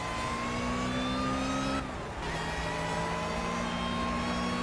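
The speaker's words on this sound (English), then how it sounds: "This is definitely a Honda engine. It's based on the sound. Distinctive VTEC noise." Honda race car engine in Project Cars, revving high with a rising whine, briefly dropping on a gear shift, then climbing steadily again, loud and continuous with no talk.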